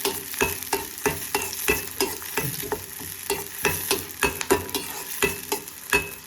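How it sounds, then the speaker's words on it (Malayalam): Shallots fry in a pan for a dry shark fish curry while a spoon stirs them, steady close sizzling broken by a regular rhythm of scraping strokes. "ഈ അരിഞ്ഞ് വെച്ചേക്കുന്ന ചെറിയുള്ളി കൂടെ ഇതിൻ്റെ അത് ഇട്ട് കൊടുക്കുക നന്നായി മൂത്ത് വരുന്നിടം വരെ നല്ലോണം ഇളക്കി കൊടുക്കും"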